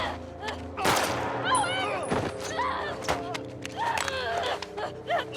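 A gunshot and sharp impacts from The Last of Us Part II sound amid a tense scene, with thuds near the start and game voices and effects continuing around them.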